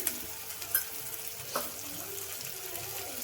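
Fenugreek leaves frying in a pan for dal, with a steady soft sizzle and occasional scrapes and clinks of a spoon stirring, close and alone without talk.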